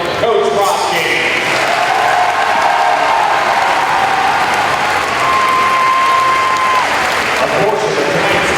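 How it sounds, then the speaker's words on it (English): Crowd applauds loudly and steadily at a high school volleyball game between Liberty and Liberty North, a continuous wash of clapping and cheering that fills the gym, with a brief tone cutting through partway. "Ladies and gentlemen, one more round of applause"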